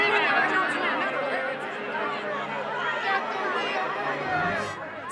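A restless cartoon crowd murmurs and chatters continuously, a dense babble of many voices filling the scene at steady volume.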